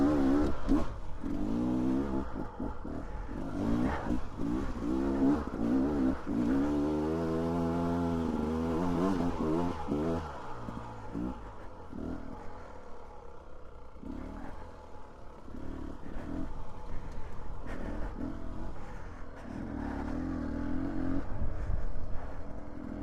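A motorbike climbing a mountain trail in the Idaho mountains in autumn. The engine revs up and down in uneven surges, with clattering and rattling over rough ground and a few short drops in power.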